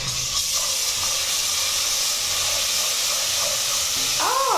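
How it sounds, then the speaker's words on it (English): Loud, steady sizzling and hissing from tomato paste frying in a hot pan, continuous throughout, with a faint tonal whine rising near the end. "Oh, the sizzle!"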